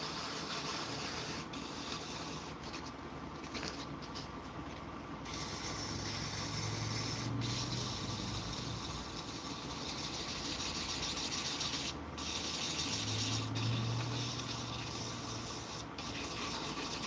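Fine-grit sandpaper, around 400 grit, rubs against a piece spinning on a wood lathe, making a continuous raspy scratching that swells and eases in long strokes over a steady motor hum, with no talking.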